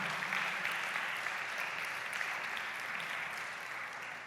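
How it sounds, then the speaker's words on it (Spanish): A church congregation applauding together, dense steady clapping that fills the whole stretch and fades slightly toward the end. "denle un aplauso al Señor, hermano"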